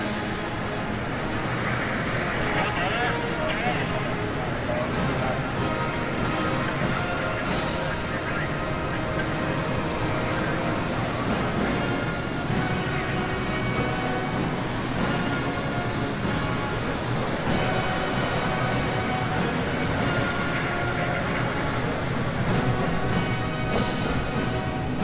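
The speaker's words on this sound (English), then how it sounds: "Armed helicopters are hovering to provide air support." Armed military helicopters hover over a Chinese PLA military parade, giving a steady, dense rotor and engine roar that holds at full strength throughout with broad wash and no pauses.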